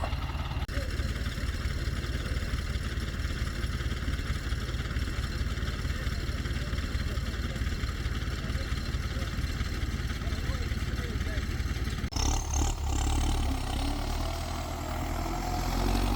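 A clean, well-kept farm tractor moving hay bales in Russia runs with a steady, close mid-pitched engine drone, with a sudden bump in the sound near the end.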